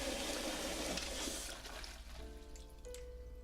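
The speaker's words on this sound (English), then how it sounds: "and we flush the toilet." Toilet flushing in the video game The Cat Lady, a steady rushing of water that tapers off as soft tonal game music and faint trickling come in.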